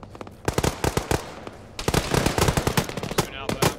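Incoming gunfire in the military shooter Arma, with loud, sharp rapid bursts of automatic fire cracking close by in quick irregular volleys, broken by a brief pause.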